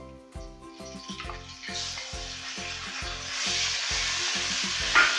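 Steady sizzling as ginger-garlic paste fries in a pan, starting quieter and growing louder and hissier, with a faint rhythmic musical beat underneath and no talking.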